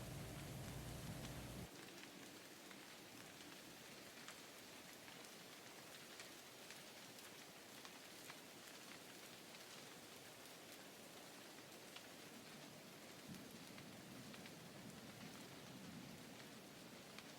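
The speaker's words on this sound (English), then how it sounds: "We're sitting here, listening to the rain, right?" Steady rain falls in a forest, a dense even hiss of drops on leaves and ground that continues unbroken and fairly soft throughout, with no voices.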